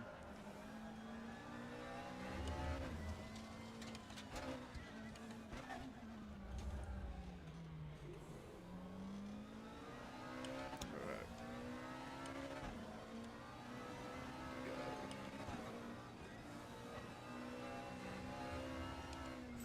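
Race car engine in the Race Room racing game, revving steadily through repeated rising and falling gear sweeps with brief shift drops, continuous and fairly quiet, with no voices.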